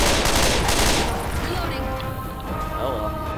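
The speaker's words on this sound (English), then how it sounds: "Why am I shooting three bullets in the reload?" Rapid gunfire in Left 4 Dead 2 on The Parish campaign in Realism mode, with dense, loud bursts crowding the first second before easing into quieter, scattered shots and game noise, with some voice activity mixed in.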